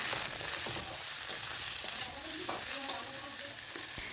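Drumstick pieces and tomato fry in a pan with a steady broad sizzle, punctuated by a few soft clinks and stirring scrapes, with no one speaking.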